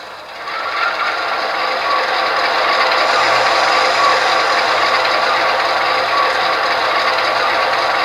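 An Athearn Genesis ES40DC GEVO model locomotive with an ESU LokSound decoder at speed step 1; its motor whirs and grinds steadily, a continuous mechanical hum with faint ratcheting texture throughout.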